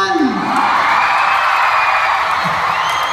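A large crowd at a university event cheers and whoops loudly and continuously, shouting voices blending into a dense roar close by.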